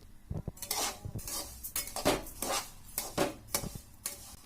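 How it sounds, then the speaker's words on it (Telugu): Rice being lightly fried in a pan, stirred with a utensil that scrapes and clinks against the metal in an irregular, close-up rhythm, with no one talking. "ఒక 1 అవర్ బియ్యము ఆరాక మనం లైట్గా పెనంలో లైట్గా ఫ్రై చేసుకోవాలి"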